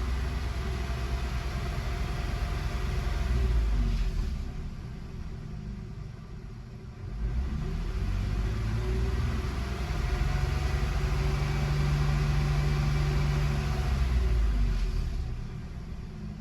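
A Nissan VG33 V6 engine idling after an intake plenum gasket replacement, a steady low rumble with a brief dip in level partway through, heard nearby with no talking.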